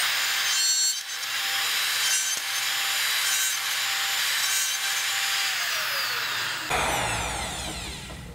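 A router guided by a Keller dovetail jig cuts tails in clamped wood with one continuous loud whine that shifts near the end as the bit exits, close and with no talk.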